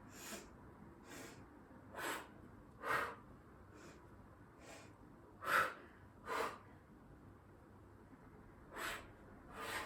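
Sharp breaths in and out through the nose and mouth during a Pilates abs exercise, about ten short bursts at an uneven pace, fairly close and clear over a quiet background.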